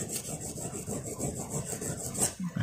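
Cheap metal tweezers having their tips sanded thinner, a close, steady rasping rub with repeated back-and-forth strokes running throughout, fairly loud and alone without talk.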